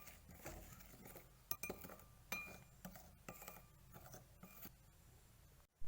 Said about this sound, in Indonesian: Kemudian kita aduk hingga tercampur.